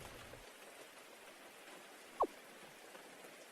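Steady ambient rain in a video game, a soft even hiss of falling drops that holds throughout with no voices.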